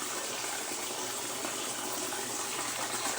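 Tap water runs in a steady, continuous gush while fish is washed before cooking, close and fairly soft, with no talking.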